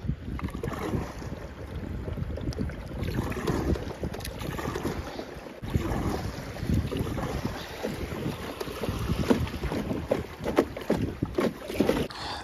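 A shuttle punt boat moves across shallow water into a headwind, with steady wind buffeting the microphone and a continuous rush of water against the hull, close and fairly loud throughout.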